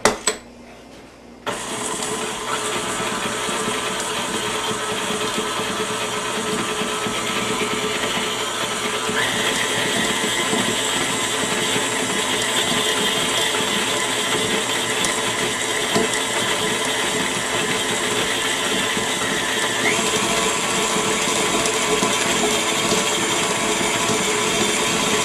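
Electric mixer creaming unsalted margarine with brown and granulated sugar for lemon spritz cookies, a steady loud motor whir with a rhythmic churning beat that starts abruptly and runs continuously without talk.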